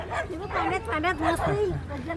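Dogs bark and snarl in a tangled, agitated exchange, somewhat distant, mixed with background voices.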